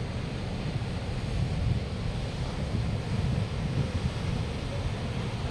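Atlantic Ocean waves at Muxia on the Galician coast, heard as a steady, loud wash of surf mixed with wind noise on the microphone, continuous throughout with no speech.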